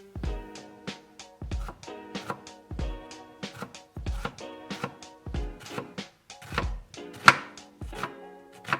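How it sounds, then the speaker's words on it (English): Rhythmic knife strikes on a cutting board while thinly slicing an onion, a steady series of sharp chopping thuds with faint slicing sounds between them, close by. "you want to thinly slice your onion, so chop it in half and then start cutting up your onion slices"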